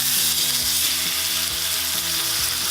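Steak frying in an oiled pan, a loud, dense, continuous sizzle with crackling spits, close up and steady, with no one talking.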